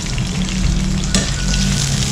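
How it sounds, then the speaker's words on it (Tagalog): Hotdogs frying in a pan of oil, a loud, dense, continuous sizzle close up with a brief crackling burst midway, no voices. "nagluto muna ako ng hotdog na pinirito lang"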